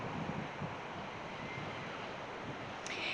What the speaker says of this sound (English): with all that power of those waves